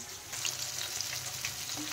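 Pieces of rohu fish fry in hot oil in a pan, a continuous close crackling sizzle with small pops throughout and no voices.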